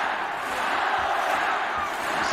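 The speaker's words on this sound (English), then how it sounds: "To the home crowd now, really get behind him." A home boxing crowd at a 2019 fight between Naoya Inoue and Nonito Donaire roars in a steady, dense wall of cheering and shouting that carries across the whole stretch without letting up.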